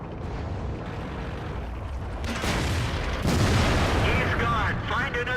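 A tank gun fires in World of Tanks with a loud boom, followed by a second heavy blast and rumbling debris, while a voice speaks over the battle.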